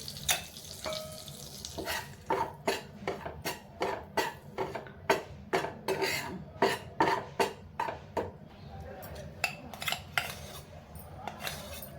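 A spoon repeatedly scrapes and clinks against a pan while stirring a fenugreek laddu mixture with ghee, producing a steady run of sharp metallic knocks over a low background hum.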